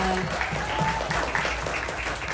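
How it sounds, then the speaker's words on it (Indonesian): A crowd applauding steadily, a dense wash of clapping from a room full of people, with faint voices mixed in. "Tepuk tangan boleh?"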